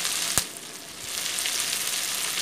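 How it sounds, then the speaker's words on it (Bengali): Onions and green chillies stir-frying in a pan for a spicy Boirali fish jhal, a steady close sizzle with one sharp utensil knock near the start. "পেঁয়াজগুলো দিয়ে দিলাম। হালকা নেড়ে চেড়ে নিয়ে কেটে রাখা লঙ্কাগুলো অ্যাড করে দেব।"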